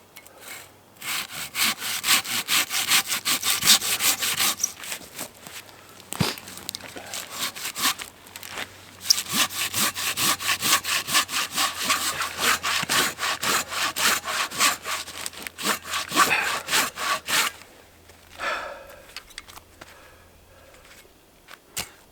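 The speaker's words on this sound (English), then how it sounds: "I'm gonna try and make a little better saw cut on this one" A hand saw cuts through a log outdoors in the woods with rapid, rasping back-and-forth strokes, close and continuous for most of the clip, with a brief pause midway and a quieter rustle at the end.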